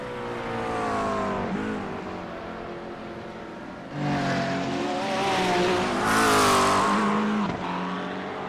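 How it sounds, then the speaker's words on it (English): Race cars lapping a hillclimb-style circuit, engines loud and close, revving hard through gear changes with a brief tire squeal as one car passes, rising to a louder surge near the end. "Quite a bit of cars running some good laps"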